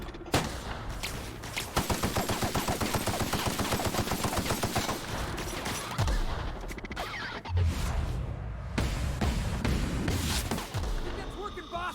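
Shotgun fire in The Outer Worlds on PC, a dense run of sharp repeated blasts through the first half, then scattered louder bangs and impacts, with a voice talking over parts.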